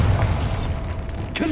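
Bombarda spell blast in the video game Hogwarts Legacy on PS5, a dense rumbling burst that fills the short moment, with a brief sharper crack near the end.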